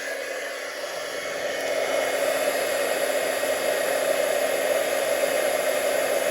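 A heat gun melts white embossing powder on vellum for a poinsettia card, blowing as a loud, steady whooshing hiss that swells slightly and holds alone.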